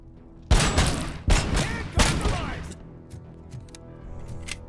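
Three sharp, loud single gunshots crack out in quick succession in RoboCop: Rogue City, each followed by a ringing tail, then fainter clicks and distant noises follow.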